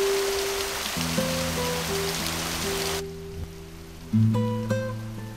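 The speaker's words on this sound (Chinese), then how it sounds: "可雨还没停啊。" Steady rain pours as a dense, even hiss for about three seconds, then cuts off abruptly, leaving soft sustained musical tones and a few low thumps.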